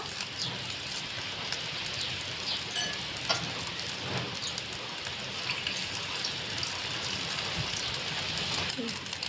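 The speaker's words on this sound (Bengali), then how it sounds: "এইভাবে এক পিচ এক পিচ করে ডিমটাকে আমি ভেজে নেব" Egg pieces frying in hot oil in a pan for omelette curry, a steady loud sizzle and crackle throughout with faint talk underneath.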